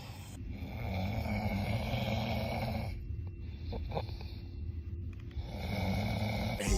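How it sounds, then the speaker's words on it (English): A person snoring loudly and close, with long rasping inhales that pause briefly and then resume. "And the biggest one, I be snoring."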